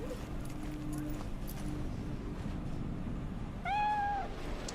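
A cat in a video game gives a short, clear meow near the end, following quiet footsteps and background game ambience, with no talk over it.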